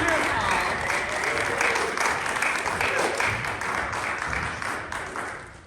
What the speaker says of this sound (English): huge round of applause for our first place adult winner